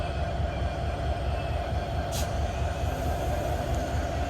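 A detached train locomotive rumbles away at Jashore railway station, a steady low mechanical drone with a faint hiss, continuous throughout at moderate distance.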